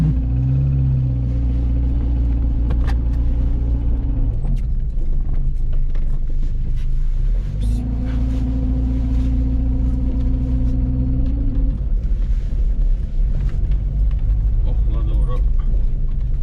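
A Renault car pulls away slowly on a road near Kütahya, heard from inside the cabin as a steady low engine rumble with mechanical whirring and occasional creaks, continuous throughout.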